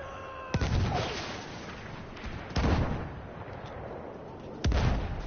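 Grenade, rocket gun and dynamite explosions in the game Frontlines go off as three loud, sharp blasts spaced a couple of seconds apart, each trailing into a rumbling decay over a steady battle din.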